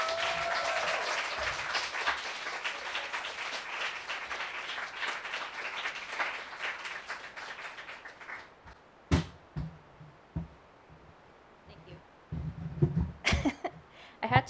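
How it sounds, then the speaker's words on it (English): An audience at a poetry reading applauds warmly for about eight seconds, the clapping thinning and dying away, then only scattered shuffles and small knocks remain in a quiet room. "So give a big round of applause for Jess."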